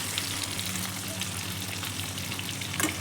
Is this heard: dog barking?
no